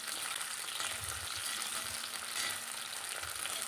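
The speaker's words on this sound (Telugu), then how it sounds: "ఇలా మిగిలిన ముక్కలు కూడా వేసి మంచిగా ఫ్రై చేయాలి." Okra pieces fry in hot oil in a pan, making a steady, even sizzle with faint stirring bumps underneath, close and continuous throughout.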